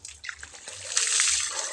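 Water being drawn from a rural well in Masbate province, splashing and trickling steadily and growing fuller and louder toward the end, with a few faint sloshes early on.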